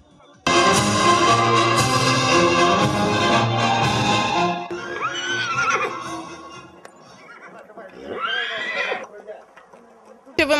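A horse neighs loudly during equestrian training, a long shrill whinny that fills the opening seconds, then shorter quavering whinnies follow amid faint stable background.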